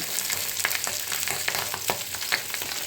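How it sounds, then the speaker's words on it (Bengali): Pabda fish fries in a small amount of oil, producing a steady, dense sizzle and crackle close by. Faint spatula clicks sound over the constant hiss, and no one speaks. "এইভাবে তোমরা মাছ ভাজবে তেলটা কমও লাগে"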